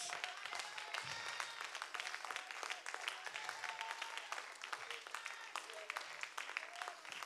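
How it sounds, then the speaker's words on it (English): Church congregation standing and clapping along during a worship service: faint, distant, steady hand claps with a soft murmur of voices and music underneath. "Come on, clap your hands."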